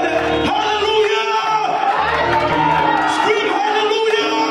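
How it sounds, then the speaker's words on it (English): A church congregation at an evening banquet service screams and shouts together in a loud, continuous burst of whoops and raised voices that fills the room. "Now, we're going to scream together."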